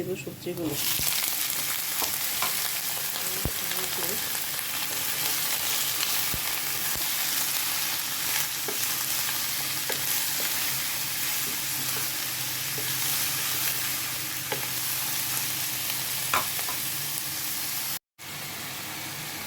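Vegetables sizzling steadily in hot oil with onion and spice paste fried light brown, a dense continuous frying hiss with occasional pops and stirring scrapes, close and loud, cutting out briefly near the end.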